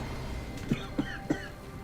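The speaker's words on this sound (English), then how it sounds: "Excuse me if you are hearing the cough." Three quick, muffled coughs in a row, fairly soft, over a steady background hum.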